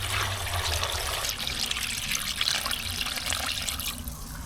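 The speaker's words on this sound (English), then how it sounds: "Put enough water to cover." Water pours steadily into a pot holding blackfish racks and a head of cabbage, a continuous close splashing rush that runs the whole time, with no talking.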